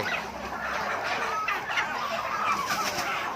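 Chickens cluck and squawk in a crowded, busy chicken market at a Thai border market, a dense chorus of many birds close by with no talk over it.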